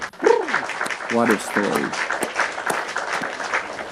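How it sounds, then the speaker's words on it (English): Applause crowd sound effect, a steady wash of clapping running throughout, with a person talking over the start. "Claps in the chat."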